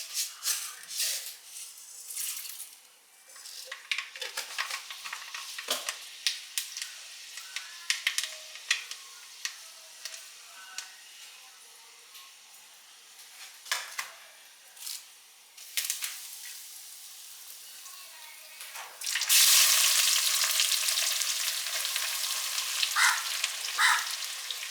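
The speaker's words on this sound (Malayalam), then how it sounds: "എണ്ണ ചൂടാവുമ്പോൾ കടുകും ഉലുവയും കറിവേപ്പിലയൊക്കെ ഇട്ട്" Mustard seeds, fenugreek and curry leaves sputter in hot oil with rapid popping and crackling, swelling into a loud, dense sizzle near the end, close by with no voices.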